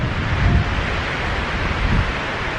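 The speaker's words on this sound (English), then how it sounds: "Lots of wind." Loud, continuous wind noise rushes over the microphone among tall pine trees beside a tiny church, with two heavier gusts thumping low in the mix.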